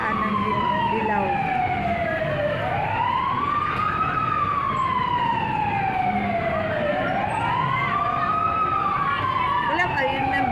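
A fire truck siren wails in long rising and falling sweeps at a building fire near a market, loud and close over steady traffic and engine noise, with people talking nearby.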